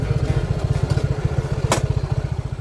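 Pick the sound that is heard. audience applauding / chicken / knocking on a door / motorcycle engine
motorcycle engine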